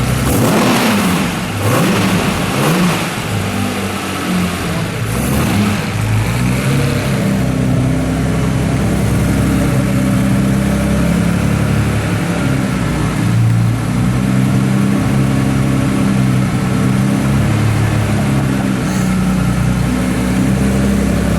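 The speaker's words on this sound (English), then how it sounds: "Go on one more time. One more rev." Engine of a 1961 Aston Martin DB4 GT Continuation revving loudly up close, a sharp burst of acceleration early on that settles into a deep, steady idle rumble for the rest of the clip.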